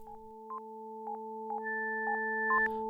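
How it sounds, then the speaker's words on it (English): A sonar device passing through the meninges, the lining of the brain, gives off steady pure tones with soft, regular beeping pulses about twice a second, faint and electronic, plus a brief rising chirp and a noisy burst near the end. "That sound you hear now is the device going through the meninges, the lining of the brain."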